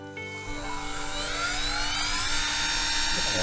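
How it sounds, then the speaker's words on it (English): A small high-pitched drill whines steadily, its pitch climbing slightly as it bites into a gun port on a wooden model ship; close and continuous. "just going to drill close to the centre as I can get of the gun port"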